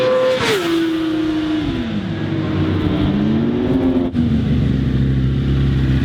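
Yamaha R1 motorcycle engine revving loudly up and down, pitch sweeping high then dropping and climbing again, with a steady roaring drone close to the listener and no talk.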